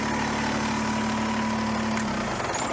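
A Kubota BX23S compact tractor engine idles steadily with a constant low hum, close by and alone, its backhoe just disconnected.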